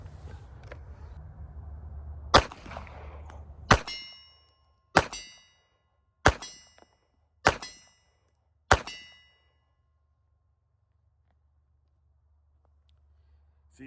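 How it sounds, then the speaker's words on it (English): Five sharp, loud reports fired in a steady rhythm about one and a quarter seconds apart from a .32 ACP pistol loaded with Underwood ammunition at a shooting range, each crack ringing briefly before quiet returns. "I just want to dump a couple mags each gun down range just to check for reliability"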